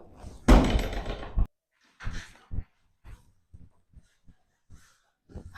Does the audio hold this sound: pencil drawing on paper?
no